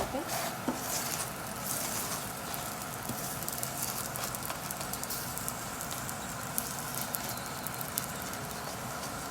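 Oil roti (Guyanese paratha) cooks on a hot pan with a steady soft crackle and sizzle, a fairly quiet, even texture lasting throughout with small pops scattered across it.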